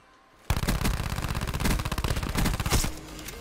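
Rapid automatic fire from the Switchblade X9 submachine gun in Black Ops 4, a dense, loud burst of close shots lasting nearly three seconds after a brief quiet start, with no talking.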